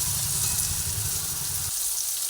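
Tomatoes frying with salt in a pan give a loud, dense, continuous sizzle and crackle. A low rumbling layer underneath cuts out near the end.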